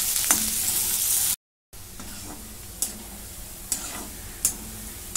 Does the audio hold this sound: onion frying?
yes